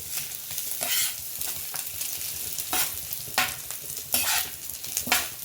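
Tempering for a brinjal masala with cumin rice sizzles in a pan, a soft steady frying hiss broken by repeated bursts of louder crackle as it is stirred, heard close with no talking.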